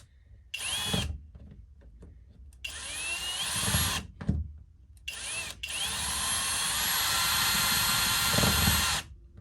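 A power drill whines in several bursts, the last one long and steady as a screw is driven in without pre-drilling while mounting an HVAC UV light sanitizer, close and loud with short pauses between.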